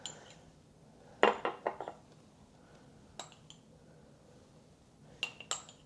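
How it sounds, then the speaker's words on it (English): A spoon stirs a paprika-based spice rub inside a small jar, making sharp metal-on-glass clinks in a few quick bursts separated by quiet pauses, close and fairly faint. "I'm just going to stir that up."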